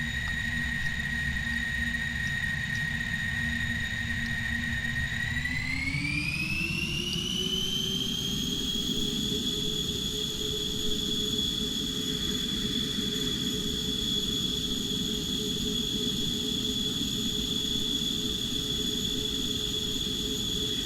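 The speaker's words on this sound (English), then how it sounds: "of course it's only got a little drone engine on it" A small drone engine on a player-built aircraft in a space-flight video game hums steadily and loudly, a continuous whine that rises in pitch around five seconds in and then holds level without any voices.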